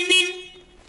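The horn on a homemade 4x4 mini tractor gives one short, close toot that fades quickly, with no talk over it.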